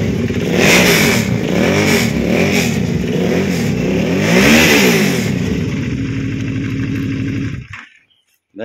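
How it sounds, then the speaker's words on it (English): A 2011 Suzuki V-Strom DL650 motorcycle engine revs hard and steadily, loud and close, swelling through several throttle blips before cutting off abruptly near the end. "That is a very angry sounding bike."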